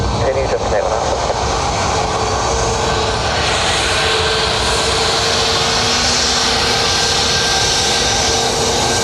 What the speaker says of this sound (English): Icelandair 737 MAX